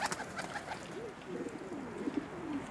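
Pigeons cooing in a loft, soft rolling coos repeating through the stretch with faint flutters and background rustle, fairly quiet and close.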